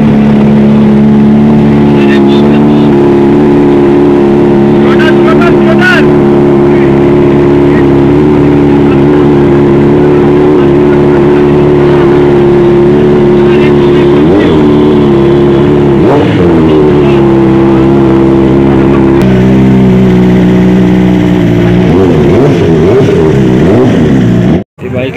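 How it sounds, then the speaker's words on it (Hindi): A BMW superbike engine starts and idles loud and close, with a steady rumbling drone and a few revs, while people talk over it during a Republic Day group ride. "BMW स्टार्ट किया"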